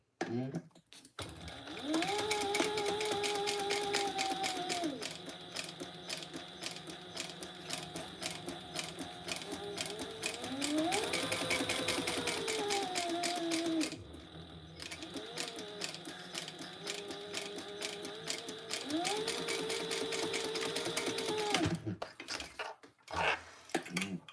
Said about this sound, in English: This time, however, we're going to sew all the way around.